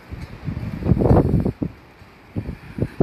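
Wind gusting at a rough, choppy seaside in Polignano a Mare, a broad roaring rush that swells and fades in uneven gusts with blustery buffeting against the microphone.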